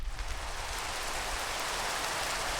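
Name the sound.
rain in a video game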